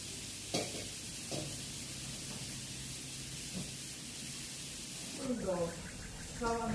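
Mung beans cooking in a pan while being stirred, with soft scraping strokes and a faint, steady sizzle at moderate distance, under occasional talk.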